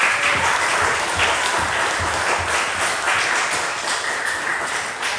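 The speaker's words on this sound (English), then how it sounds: "Can we give Juno a round of applause?" Steady applause from a crowd, a sustained wash of clapping at even loudness throughout.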